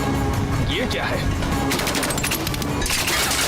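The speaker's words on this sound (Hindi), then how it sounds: "गोली चलाओ।" Rapid bursts of gunfire crackle over a dense, loud action soundscape, with scattered impacts and a busy background.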